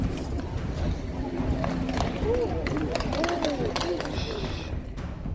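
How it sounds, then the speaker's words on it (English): Horses of the King's Guard in a traditional horse fight, hooves clattering and scuffling in quick irregular bursts with occasional squeals, close and busy under a constant crowd and voice murmur. "the traditional horse fight of the King's Guard"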